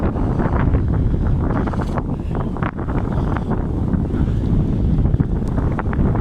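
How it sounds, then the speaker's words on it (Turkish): A loud, steady roar of strong headwind batters the microphone as a bicycle is pedalled against it outdoors, the gusts rising and dipping slightly with no talk over it. "Çok rüzgar var şiddetli."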